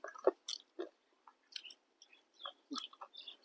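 Close, crunchy chewing of crispy pork with sticky rice noodles and spicy papaya salad, in irregular wet bites and smacks, quiet with no talking.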